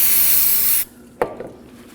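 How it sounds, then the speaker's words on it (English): A steady, loud spray of brake parts cleaner hisses onto a brake caliper pin of a 2011-2016 Kia Optima for under a second, then cuts off, followed by a faint metallic clink and light handling noises. "Using some brake parts cleaner, go ahead and spray some on the pin."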